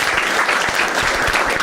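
Audience at a Marathi stand-up comedy crowd-work show bursting into a dense, even round of clapping, close and fairly loud throughout the short stretch.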